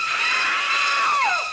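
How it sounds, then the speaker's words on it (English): Janet Leigh's scream from Hitchcock's film Psycho, a single loud, sustained high-pitched shriek that wavers and falls away at the end. "if you think about Psycho, Janet Leigh's first scream was a real scream."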